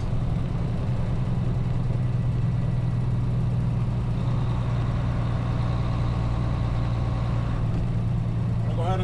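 A truck with a 10-speed transmission drones steadily during a CDL road test, its deep, constant engine rumble filling the cab with a slight shift in tone partway through, while someone talks over it.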